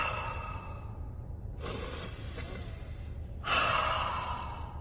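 Two slow, deep breaths, each a soft close airy rush that swells and then fades into quiet, the second exhale louder and longer than the first.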